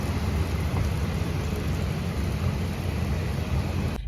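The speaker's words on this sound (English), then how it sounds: "It's really rainy." Steady heavy rain and storm wind roar around a truck being driven through South Carolina under a tornado watch, a dense continuous wash of noise with low rumble, no voices.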